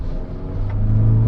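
A Toyota Prius Alpha hybrid accelerates, giving a loud, close low engine rumble with a rising tonal hum. The hum strengthens steadily over a second or so, with no talking.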